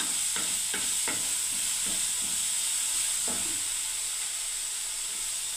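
Oats go into a hot pan and get stirred, with a steady hiss beneath a series of quick scraping strokes clustered early and again near the middle, heard close with no talking.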